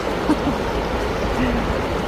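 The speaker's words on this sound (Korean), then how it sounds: "물소리가 좋네요" Flowing river water at a riverside camping spot on the Seomgang River in Hoengseong, Gangwon-do, a steady close babbling rush with faint brief voice fragments over it.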